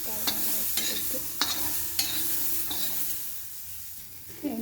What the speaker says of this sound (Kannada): ಎಣ್ಣೆ ಹಾಕಿದ ಮೇಲೆ ಸ್ವಲ್ಪ ಉಪ್ಪನ್ನು ಹಾಕಿ ಫ್ರೈ ಮಾಡ್ಕೋಬೇಕು